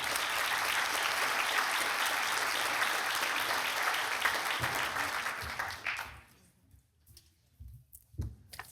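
A banquet audience at a Citizen of the Year dinner claps loudly and steadily for several seconds before the applause quickly fades, leaving a few scattered claps and room noise.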